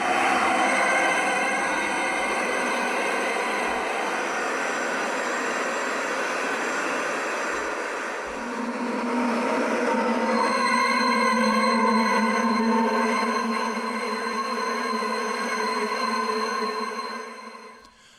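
A Wraith Scrapes sound effect from the Presage sound library: a long, eerie metallic scraping drone with shifting tonal layers and a swelling middle section, steady and alone, fading out at the end.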